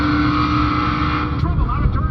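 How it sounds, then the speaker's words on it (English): Busch Grand National stock cars roar around a racetrack in a loud, continuous engine drone that swells and shifts as the pack passes close by. "get the full sound of these Busch Grand National racers"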